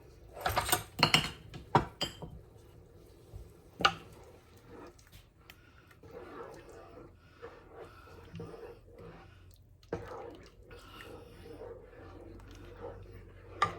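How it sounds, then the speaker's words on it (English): A spoon stirring a pot of balsamic cranberry bourbon roast: a cluster of sharp metallic clinks against the pot at first, then sparse knocks and soft scraping, close by in a quiet kitchen. "I'm going to give that a big stir"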